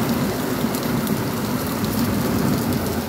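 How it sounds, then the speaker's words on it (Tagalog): Heavy rain pours down during a morning rainstorm, a dense, steady and loud hiss of drops on surfaces that runs unbroken, with no speech. "Malakas ang ulan."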